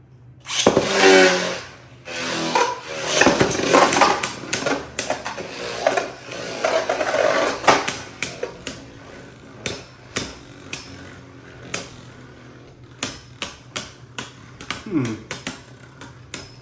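Beyblade tops, including a B-197 Divine Belial 2 Nexus Adventure 3, launch with a whirring rip and then clash in a stadium, giving sharp clicks and knocks that thin out into scattered taps.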